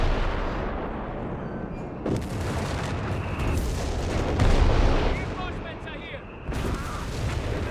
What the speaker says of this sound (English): looks like they caught an artillery duel here, if anything